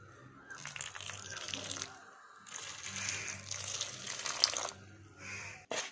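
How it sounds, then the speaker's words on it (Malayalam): Hot water splashes and trickles into a homemade fish feed mix, a close, fairly soft pour that runs in uneven bursts with short pauses between them. "കുറച്ച് ചൂടുവെള്ളം ഒഴിക്കാം."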